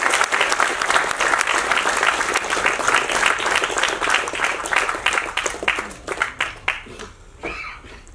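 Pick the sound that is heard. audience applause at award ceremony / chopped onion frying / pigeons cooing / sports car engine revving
audience applause at award ceremony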